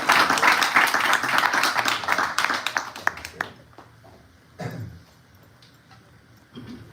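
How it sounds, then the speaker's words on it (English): Audience applause at a Saturday home program rises at once and carries for about three and a half seconds, then dies away into near quiet with a few faint sounds and a brief voice. "Let's have a round of applause."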